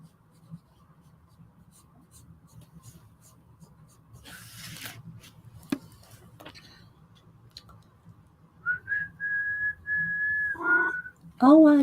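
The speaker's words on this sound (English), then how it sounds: "Oh, you don't want me whistling?" A person whistling a short tune while coloring at a table, the clear whistled notes rising in the last few seconds over faint pencil scratching and rustling.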